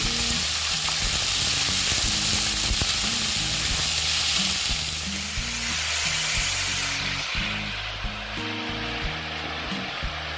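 Pieces of ash gourd fry in a pan with a loud, steady, close sizzle, mixed with low clatter and stirring. The hiss eases a little in the second half, and no one speaks.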